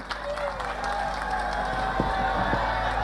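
An audience at a village concert claps and cheers in a steady, moderately loud wash of applause, with voices mixed in throughout.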